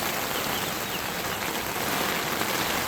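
Steady roar of a heavy rainstorm outside a chicken coop, thick hissing rainfall beating on surfaces at an even level throughout, with no voices.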